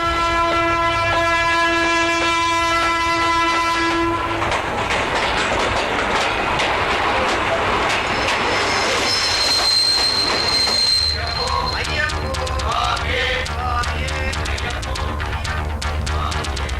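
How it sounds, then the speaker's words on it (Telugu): A train pulls in, opening with a sustained horn-like tone before giving way to loud, continuous rumbling and clatter with high metallic squeals as it arrives close by. "ఒరే ట్రైన్ వచ్చిందిరా."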